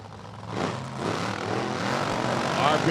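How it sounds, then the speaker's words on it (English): A drag racing car engine builds revs before staging, a loud rising roar that swells and holds, with a commentator talking over it. "RPM's up, getting ready to stage him up and swap feet."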